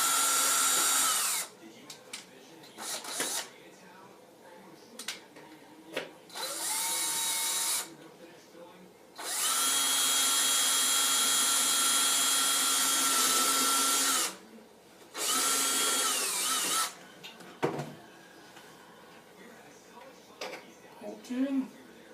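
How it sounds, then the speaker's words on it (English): A power drill whirs in several long, loud bursts with pauses between, drilling holes in a kids' helmet, broken by clatters and bits of speech in the gaps. "and drill it."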